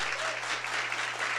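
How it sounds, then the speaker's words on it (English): An event audience claps in a dense, steady round of applause filling the whole moment. "giving him a round of applause"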